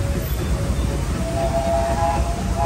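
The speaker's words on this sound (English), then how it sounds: "Welcome aboard the Disneyland Railroad." The Disneyland Railroad train departs Toontown Depot, rumbling along with a continuous low roar, and a faint tonal whine rises in the second half.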